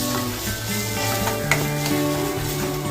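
Malvani-style masala paste sautés in a pan, giving a steady close sizzle with a light stirring scrape partway through, over a faint tonal hum.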